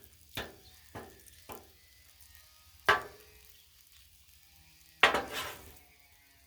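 Shrimp fried rice stirred on a Blackstone griddle: a quiet sizzle underneath with a series of sharp spatula scrapes and clacks, three quick ones, then two louder strokes spaced apart, close by.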